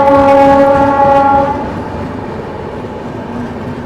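A WAP-7 electric locomotive from Santragachi shed passes by, sounding a loud, sustained horn blast for about a second and a half, then leaving a steady, rolling rail rumble.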